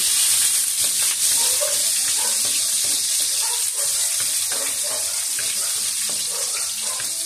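Chayote with a little cabbage sautéing in a pan: a steady, close, bright sizzle of frying vegetables with soft scraping stirs and light clatter throughout, no talking.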